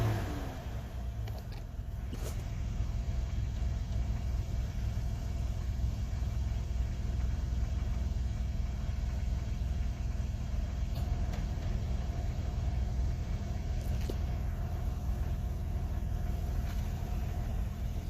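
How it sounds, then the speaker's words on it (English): A Jeep Cherokee XJ engine with a rough idle settles into a steady low rumble after a brief touch of gas, running continuously and fairly close with no voices. "Just gonna give it a little gas here."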